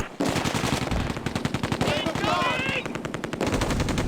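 Dense, sustained machine-gun fire rattles without letup in the Close Combat: A Bridge Too Far war game, loud rapid bursts layered with shots and brief overlapping effects.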